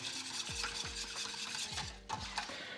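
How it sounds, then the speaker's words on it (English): Whisk scraping steadily through bechamel sauce in a pan for a vegetarian lasagne, with repeated rhythmic strokes and low thumps against the metal, close and moderately loud, no talking. "let's get this whisked in"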